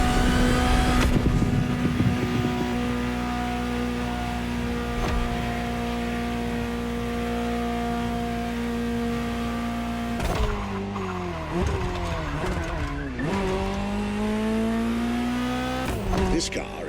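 Ferrari 308 GTO, the Gran Turismo Omologato, in The Crew Motorfest holds a steady engine drone, then revs through quick shifts with tires squealing through corners, close and loud, with faint speech in the background.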